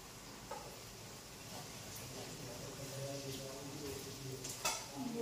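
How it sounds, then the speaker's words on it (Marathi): Curry leaves, mustard seeds and cumin sizzle quietly in hot oil while dal kanda is cooked, a soft steady crackle with occasional clinks of a utensil against the pan under a talking voice. "थोडंसं कढीपत्ता टाकून घेतला, त्यानंतर मोहरी आणि जिरे."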